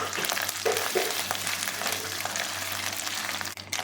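Ginger garlic paste frying for dhaba-style chana dal, a close, continuous sizzle with a few light stirring scrapes and a low hum underneath, no talk.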